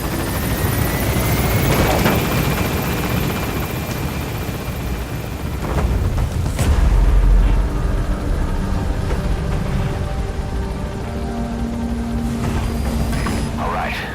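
The Pequod helicopter from Metal Gear Solid V: The Phantom Pain climbs with a loud, continuous rotor roar and whine that swells midway, with in-game engine hum and faint radio-like tones layered in.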